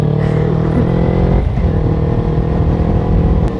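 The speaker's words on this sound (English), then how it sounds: "This exhaust sounds good." An exhaust roars loudly and close for nearly four seconds, a continuous low engine drone with a brief dip and rise in pitch midway, with no talking over it.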